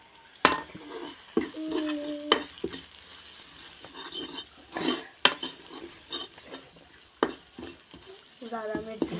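Chilies are stirred in an iron kadhai with a metal spoon, giving intermittent scraping clinks and faint sizzling at close range, with short pauses between strokes and a few brief pot knocks.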